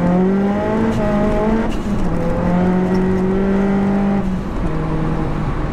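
A fully forged, big-turbo 480 bhp Seat Leon Cupra R pulls hard under boost, its loud engine note droning and rising through the rev range, with a brief dip at a gear change, heard from inside the car.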